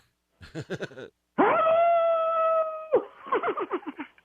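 A man imitates a wolf howl with his voice, holding a long, steady tonal note for about a second and a half, close and loud. Bursts of short, choppy vocal sounds come just before and after it.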